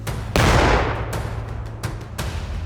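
A volley of gunfire follows a shouted firing command at a police bomb-disposal unit's range, one heavy blast with a long rumbling decay, then several sharper, lighter shots spaced apart.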